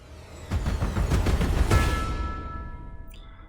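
A dense synthesized riser from Native Instruments' Rise and Hit plugin: noisy, pulsing bursts build to a peak, then a thin sustained tone rings out and fades away to near silence.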